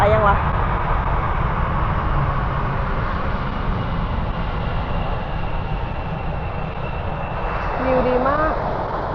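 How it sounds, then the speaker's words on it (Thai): An airplane roars steadily over a playground beside the Itami airport runway, a loud continuous engine rumble filling the whole stretch, with a brief voice near the end. "เครื่องบิน"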